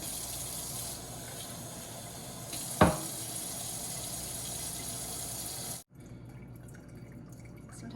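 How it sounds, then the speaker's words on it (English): Running water rinses tomato seeds in a small strainer, a steady close splashing flow with one sharp clatter midway, then the water cuts off and a quieter trickle remains. "you're just going to rinse the seeds really well"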